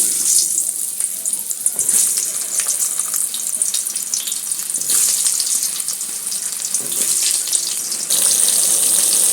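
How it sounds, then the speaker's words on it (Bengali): Potato pieces frying in oil with salt for chicken biryani give a loud, continuous hiss and crackle throughout, close up and with no voices. "আমি আলুটাকে ভেজে নেবো নুন দিয়ে এই তেলের মধ্যেই ভেজে নিচ্ছি"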